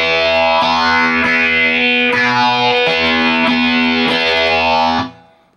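A heavily distorted electric guitar plays a loud, buzzing riff of repeated picked notes from a song intro, with a pull-off on the third string, then cuts off and fades at the end.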